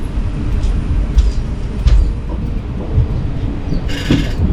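A steady, loud rumble of the Palaruvi Express pulling into platform one at Angamaly railway station in Kerala, with a couple of brief higher squeals and a hiss near the end, no talking.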